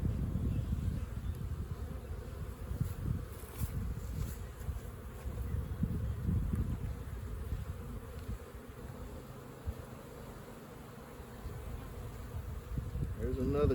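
Honey bees buzz on a hive frame holding brood and queen cells, a dense continuous low drone from many bees close by, swelling and easing slightly, with no talking.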